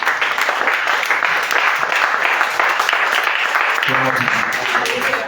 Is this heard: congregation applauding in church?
yes